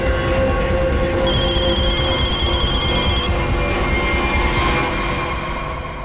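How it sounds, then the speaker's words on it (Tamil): A telephone rings steadily and loudly, its continuous electronic tone sitting over a dense, rumbling background, with no talking during the ringing. "போன் அடிக்குது."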